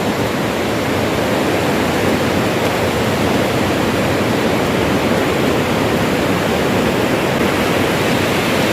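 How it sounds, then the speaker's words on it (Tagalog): A flooded river roars through Sulpan Cave in San Jorge, Samar, a loud, dense and unbroken rushing wash of water that fills the whole space, with no voices. "So ang river adi akong luyo."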